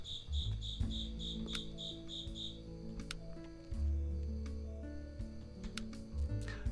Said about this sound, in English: Crickets are very annoying to me.